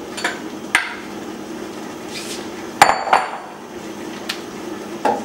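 A metal spoon knocks and clinks against a pot as kidney beans are stirred into a simmering turkey veggie chili, a few sharp taps scattered over a soft background.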